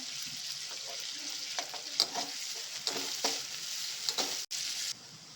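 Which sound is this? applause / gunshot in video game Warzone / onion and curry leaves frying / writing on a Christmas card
onion and curry leaves frying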